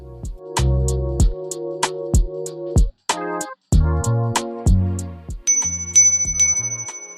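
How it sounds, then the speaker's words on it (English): Bright bells ring in a quick series of overlapping dings and chimes, loud and close, each note fading before the next strike. "Did you hear the bells?"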